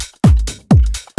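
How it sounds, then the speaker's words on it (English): Simple house drum pattern: a punchy kick with a descending pitch thump repeats about three times in just over a second, with short bright percussive hits between, loud and alone. "I create this very simple drum pattern"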